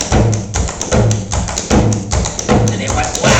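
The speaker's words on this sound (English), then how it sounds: "And then he puts an Irish double toe right in front of it." Irish double toe clogging steps tapped out in quick rhythmic bursts of sharp, close thuds and taps, repeating in a steady pattern with short pauses between groups.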